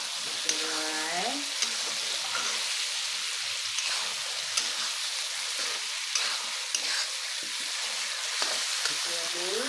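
Spices and dried chillies for an Assamese duck curry sizzle in a hot pan, a constant crackling fry punctuated by scraping stirs and clinks of the spoon.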